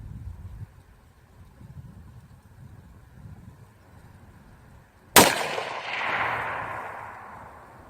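A single sharp rifle shot from a 224 Valkyrie firing a 95 grain Sierra MatchKing cracks out loud and close after a quiet outdoor lull, followed by a rolling echo that fades over the next few seconds.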